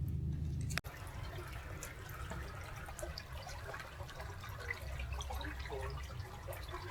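Water flows steadily through a Japanese garden stream among plants and rocks, a continuous close trickle with light dripping and splashing detail, running alone without voices.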